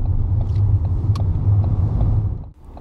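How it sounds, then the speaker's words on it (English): The engine of a manual car pulls away at a roundabout, giving a loud, close, low rumble that holds steady and then dips briefly near the end. "Gas, biting point, releasing the clutch smoothly with more gas."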